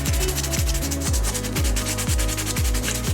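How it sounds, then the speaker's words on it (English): Back-and-forth rubbing of 400 grit sandpaper on a plastic BMW E46 steering wheel, steady and close, with a regular stroke roughly every half second and no talking. "we are beginning with our 400 grit sandpaper, and we are going to smooth these out to the best of our ability"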